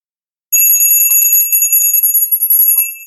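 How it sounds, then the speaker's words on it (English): A small hand bell rings continuously after a moment of silence, a bright, high, shimmering tone with rapid repeated strikes, loud and close, with no talking. "And let me just ring this little bell."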